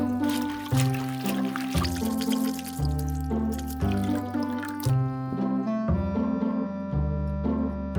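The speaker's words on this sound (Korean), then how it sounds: "찬물에 세 번 깨끗하게 헹궈주면 말릴 때 먼지라든지 이물질이 다 씻겨지고 무말랭이는 말랑말랑해져요" Dried radish strips being rinsed in cold water give off continuous splashing and sloshing, close and fairly loud, with rhythmic bursts of movement and no talking.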